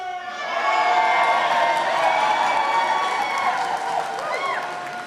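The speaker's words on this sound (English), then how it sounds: "can I get everybody on the count of three to just let out a big yell?" Audience at a nontraditional school's commencement ceremony letting out a big collective yell and cheer, a loud sustained roar of voices with whoops and shouts that swells quickly and holds, then tapers slightly.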